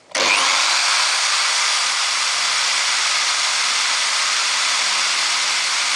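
Power sander grinding down a recycled wood disc, starting abruptly and holding a loud, steady, close whir with a broad hiss throughout, no voices.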